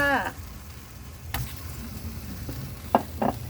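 Garlic dry-roasts in a pan for a fresh-chili fermented-fish dip, with a low, steady crackle and a few sharp scraping knocks of a utensil, after a brief voice at the start.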